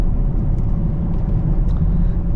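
Chevrolet Camaro LT1 accelerating on the road, heard from inside as a steady low rumble of engine and road noise with no distinct events.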